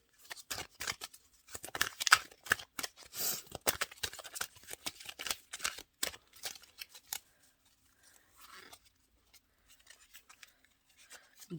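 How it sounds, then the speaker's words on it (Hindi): Tarot cards are shuffled and drawn for a reading, giving dense, close rustling and riffling that comes in quick bursts. The sound thins to a few soft slides and taps near the end. "मैं सिर्फ 2 कार्ड्स निकालूंगी।"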